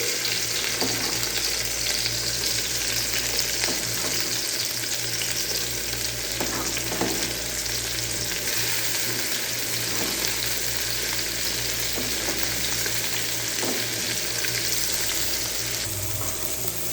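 Tomatoes fry for ginisang gulay in a pan with a loud, continuous sizzle and occasional stirring scrapes, steady from start to finish with no voices over it.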